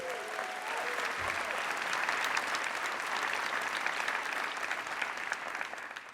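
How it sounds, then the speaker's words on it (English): At a Montgomery College presidential inauguration ceremony, a large audience gives a big round of applause for former college presidents. The clapping is sustained and even, heard from some distance in a big hall. "Let's give them a big round of applause and thank you."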